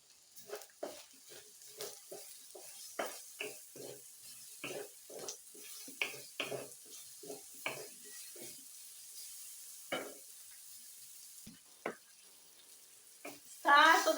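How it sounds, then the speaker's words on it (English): Chopped onion fries in a pan while being stirred, giving a soft sizzle broken by a steady run of short scraping and tapping strokes, with a louder clatter near the end. "Stir so that your onion cooks evenly."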